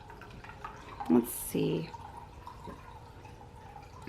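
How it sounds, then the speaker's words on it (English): Water trickles softly in a small Magnolia tabletop fountain indoors, a faint steady dripping heard beneath a brief spoken remark. "I'm sure you've heard the trickling of water as we have been in here. This is a cute little Magnolia Fountain"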